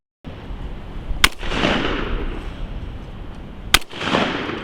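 Two loud, sharp shotgun blasts at clay targets, roughly two and a half seconds apart, each followed by a rolling outdoor echo over steady background noise; no talking.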